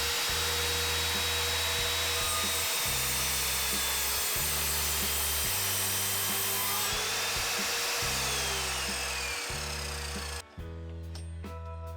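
An Evolution F210SMS mitre saw cuts through wood, its loud, steady motor whine holding for several seconds with rhythmic pulses as the blade works, ending in a brief drop before the motor runs on.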